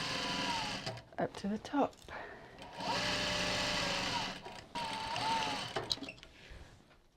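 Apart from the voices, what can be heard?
sewing machine back stitching a rolltop rucksack seam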